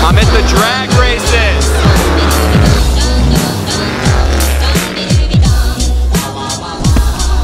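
Drag race cars at a St. Paul, Nebraska event, engines roaring loudly and sweeping past in quick repeated bursts, with tire noise and a noisy crowd around them.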